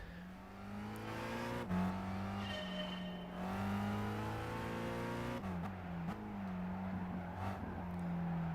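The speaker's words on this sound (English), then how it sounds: "Can you hear the car driving there?" A race car in the Test Drive video game drones steadily with a sustained engine tone, its pitch shifting through gear changes and brief dips as it accelerates, loud and close with no voices.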